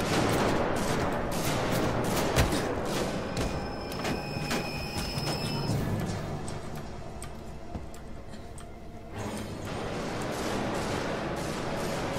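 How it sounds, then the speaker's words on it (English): Rapid gunfire bursts in the video game Alien: Isolation, sharp repeated cracks and clicks in a dense stream over a steady low rumble, loud and continuous with a short lull before resuming. "Why are they shooting?"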